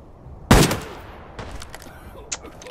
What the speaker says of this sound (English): I hear smash shots going off in the distance